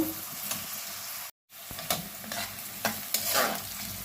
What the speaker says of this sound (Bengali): পেঁয়াজটা দিয়ে দিলাম, পেঁয়াজটা এখন ভাজবো।